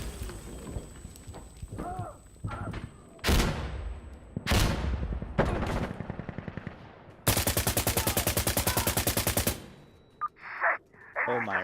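Gunfire in the modded Arma Reforger game during a sandstorm: scattered loud single shots and short bursts, then a long sustained rapid automatic burst near the end, with faint speech in places.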